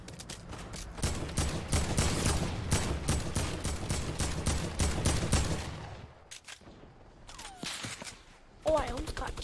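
Rapid bursts of gunfire in a Fortnite duo match, dense and loud through the first six seconds, then sparser scattered shots and effects, with players talking over the action.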